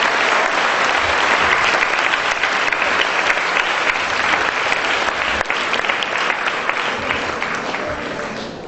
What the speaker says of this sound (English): now you can give them a big round of applause